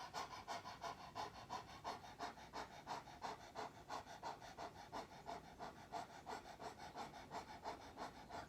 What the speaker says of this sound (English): And then your feet are together, and you're lifting up, and you're panting.